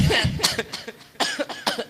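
A burst of several sharp coughs in quick succession, close and fairly loud, with no talking around them.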